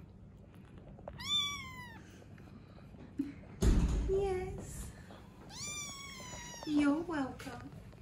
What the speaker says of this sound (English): I can hear you purring